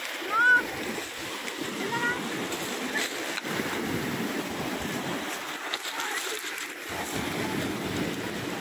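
Waves wash steadily over a pebble beach in Muscat, Oman, where people are bathing, a continuous broad surf with occasional splashes and faint voices in the background.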